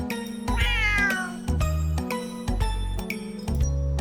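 A cat meows repeatedly in loud, close, drawn-out cries, with faint jingling tinkles between calls.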